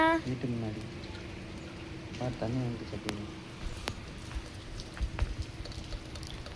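Rain falls steadily outside a house, pattering over a roadside puddle with water running from an outlet pipe. A continuous close hiss carries scattered drips and splashes, and a voice speaks briefly near the start.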